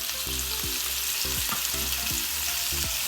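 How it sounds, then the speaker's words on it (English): Shrimp frying in olive oil in a pan over medium heat, giving a steady, close, continuous sizzle with no talking over it. "So I'm frying my shrimps on medium heat for 4 minutes, 2 minutes on each side."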